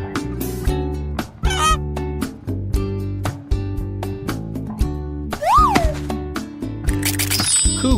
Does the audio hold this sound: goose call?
yes